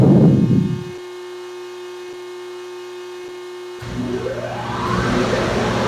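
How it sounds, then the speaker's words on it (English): High-velocity dryer at a big car wash: a loud roar cuts off, leaving a steady mains-like hum, then the blowers surge back in and keep building. "And we are going to exit through the high-velocity dryer."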